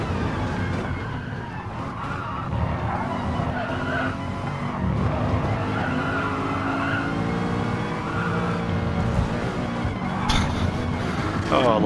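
Racing cars roar around Spa Francorchamps in a sim race, a dense wash of engine drone and tire squeal with a voice commenting over the top throughout.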